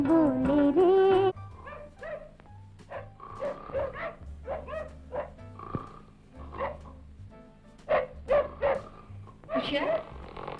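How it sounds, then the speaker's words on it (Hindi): Dogs bark repeatedly in a scene from the classic Hindi film Azaad, a string of short, uneven yaps with a low hum beneath and brief voice-like sounds near the start. "कुत्ते कब से भौंक रहे हैं? कुत्ते भौंक रहे हैं?"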